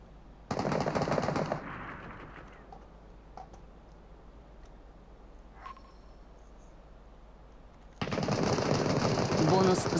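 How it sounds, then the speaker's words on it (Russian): Rapid automatic gunfire rattles out in two long bursts in the Super People battle royale video game, fairly distant, with a quieter lull of faint ticking and a few isolated pops between them. "Ну это потому, видимо, стреляют."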